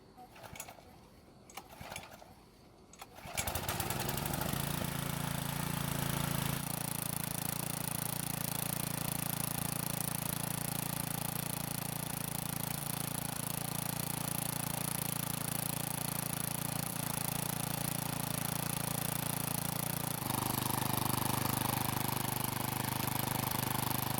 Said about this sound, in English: So this time the engine started and it sounded pretty good.